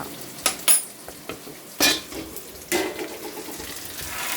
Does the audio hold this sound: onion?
yes